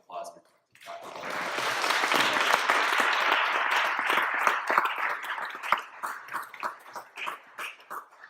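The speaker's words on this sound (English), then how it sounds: "can we just give one more round of applause for Dr." An audience at a lecture on human gene editing breaks into applause after a short spoken phrase, swelling into dense clapping that thins out toward the end into scattered individual claps, moderately distant in the hall.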